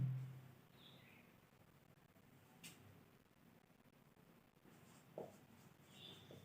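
A pen scratches across paper in short, faint strokes while a maths problem is written out, quiet and close with small ticks and pauses between marks.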